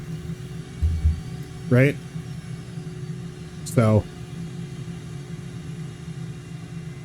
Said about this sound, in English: The left engine's running, as you can hear.